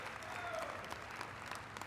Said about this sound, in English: Why don't you give Axel a round of applause here